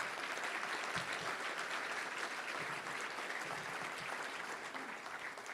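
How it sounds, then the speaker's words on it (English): Steady applause from a crowd at a Little Rock Touchdown Club event fills the whole stretch, dense and continuous clapping at an even loudness. "let's give a big round of applause to all of them"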